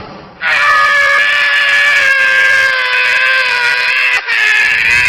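A man wails in pain in a horror cartoon story, one long, loud, strained cry held for several seconds with a brief catch near the end.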